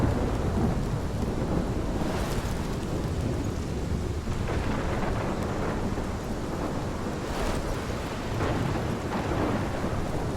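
Loud thunderstorm from the video game Life Is Strange, with heavy rain roaring steadily and rolling thunder surging through in several swells, alone with no voices.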